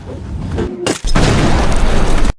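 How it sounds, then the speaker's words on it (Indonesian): A landmine detonates in a war film scene with soldiers in a dusty battlefield: a rumbling lead-in, a brief gap, then a sudden loud full-bodied blast that roars on for over a second before cutting off abruptly. "Tentara itu pun tewas oleh satu ranjau yang dilempari Atami."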